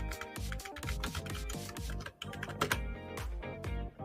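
Fingers tapping out a password on a computer keyboard during an account signup, a quick dense run of clicky keystrokes over roughly four seconds, close and steady with brief pauses.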